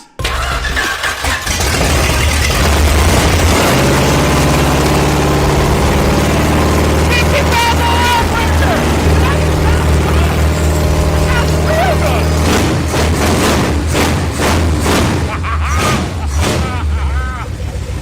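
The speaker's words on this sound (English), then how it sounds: "It runs good, it idles, it runs smooth." A long-abandoned 1970s-era Dodge Charger V8 runs steadily at idle after being revived, a loud, continuous low rumble with no missing, while excited voices shout and talk over it throughout.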